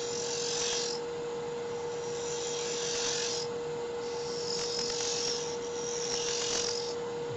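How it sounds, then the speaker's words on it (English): A small shop-made quarter-inch cove tool scrapes across wood in four or five slow rasping strokes, soft and close, over a steady faint hum. "I'm going to switch to this very small cove tool, 1/4 inch."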